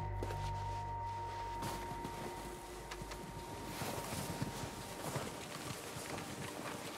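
Horse hooves clip-clop at a steady walking rhythm in Red Dead Redemption 2, fairly faint and close under a constant low ambient hum, with no voices.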